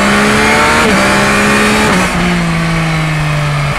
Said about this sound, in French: c'est des petits pocs dans l'échappement. Ça c'est dû au nouveau shifter